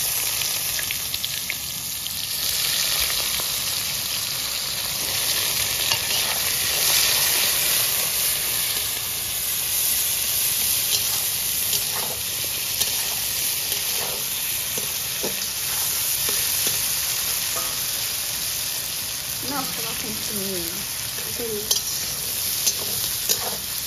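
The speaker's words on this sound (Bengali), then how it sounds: "মশলাটা খুব সুন্দর করে কষিয়ে নিলাম।" Spice masala is sautéed in a pan, with a constant close hissing sizzle and repeated stirring scrapes. A short burst of voice comes near the end.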